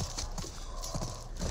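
Horse hooves in the video game The Last of Us Part I clop on hard ground in a quick, uneven series of close steps, with no voices over them.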